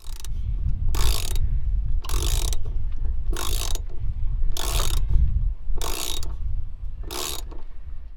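Socket ratchet tightens bolts in seven evenly spaced bursts of rapid clicking, close and crisp over a low background hum, with no talking.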